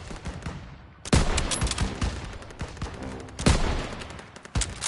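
Gunfire in the Call of Duty WWII campaign comes as loud, close rifle and machine-gun shots, several sharp blasts with rattling bursts between them over a constant battlefield din.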